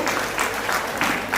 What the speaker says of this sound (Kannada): ಕೈಯಿಂದ ಚಪ್ಪಾಳೆ ಬನ್ನಿ ನೋಡೋಣ